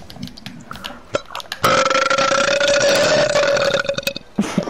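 A loud, sustained burp made by swallowing air and forcing it back out runs for almost three seconds close to the mic, with brief voices and noises just before and after it.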